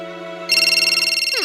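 A phone rings unanswered: an electronic tone that jumps into a bright, pulsing trill and then slides downward, loud and close, lasting only a moment.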